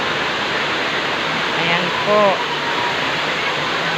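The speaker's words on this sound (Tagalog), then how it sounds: "Ayan po ang tubig nila galing sa falls." Water pouring down a waterfall at Tanay, Rizal makes a constant loud hiss, and a short spoken phrase cuts in briefly near the middle.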